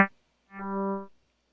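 A single distorted synth note from the Vital software synthesizer, a short buzzy attack followed by a brief sustained harmonic-rich tone that swells and cuts off, alone without any voice.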